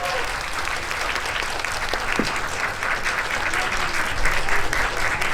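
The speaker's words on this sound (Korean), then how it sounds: "퇴장하시는 동안 박수로 보내드리도록 하겠습니다" A cinema audience at a Korean film talk event claps steadily as the guests leave the stage, a dense and continuous round of applause that swells slightly toward the end, with no voices rising above it.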